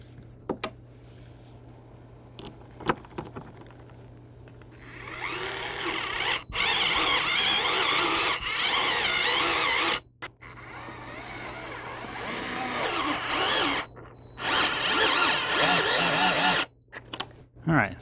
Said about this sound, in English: I do have this little electric screwdriver with a T30 bit on it that I think will make this a little quicker